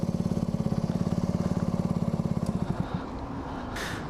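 Small engine idling low with the choke on, a steady rapid chugging pulse that loosens and smooths out toward the end, close and fairly loud.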